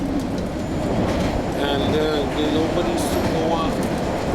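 A Boston MBTA Red Line subway train rides along during the 2015 blizzard, its steady rumble and rail noise filling the car beneath someone talking throughout.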